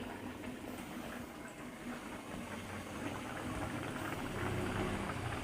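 Katla fish curry with mustard and poppy seed simmers in a pot after hot water is added, giving a steady, soft bubbling hiss that grows slightly louder toward the end, with no talking.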